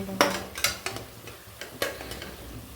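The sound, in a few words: tomato rice masala sautéing in a pan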